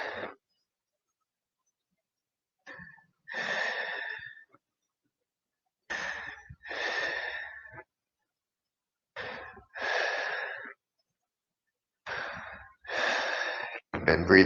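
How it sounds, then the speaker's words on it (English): Slow, deep breaths during restorative yoga breathwork, each inhale and long exhale audible as breathy rushes separated by quiet pauses, close to the microphone with no talking. "Been breathing this whole time"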